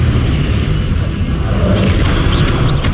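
Confringo, the blasting spell in the video game Hogwarts Legacy, goes off as a loud, rumbling explosion that booms and then settles into a sustained roar over several seconds.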